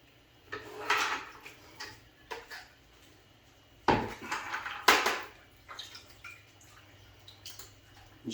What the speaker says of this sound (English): Just rinse it around